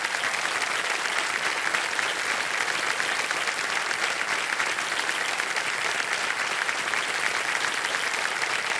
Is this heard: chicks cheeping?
no